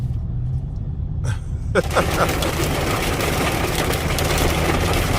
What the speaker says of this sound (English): Stuck in a rainstorm, y'all.